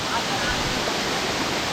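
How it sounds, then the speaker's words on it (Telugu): Boddugudem waterfall, in forest near Bhadrachalam, gives a loud, steady rush of falling water that fills the whole moment without a break. "Boddugudem water falls."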